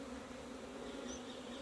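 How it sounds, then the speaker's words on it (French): Honeybee swarm being shaken from cartons into a hive, a steady low droning buzz of many bees, soft and continuous throughout. "Ça va, les abeilles sont tranquilles."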